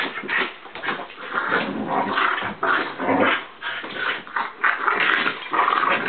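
Two dogs play together close by, with continuous rough growls, grumbles and occasional whimpering yips in a busy, uneven stream.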